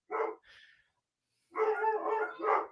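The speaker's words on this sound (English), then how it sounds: "My dogs. Can you hear them?" Dogs barking nearby in two bursts: a couple of sharp barks, a pause of silence, then a longer run of overlapping yappy barks, loud and close with no talking over them.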